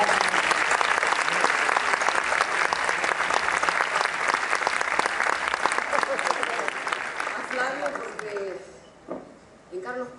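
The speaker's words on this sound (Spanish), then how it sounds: "Un aplauso para La Voz del Interior." Sustained applause from an awards ceremony audience at the Premios Vos, dense and loud clapping lasting about nine seconds before thinning out, with a few voices heard at the end.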